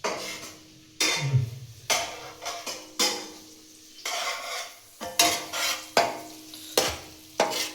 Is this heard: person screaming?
no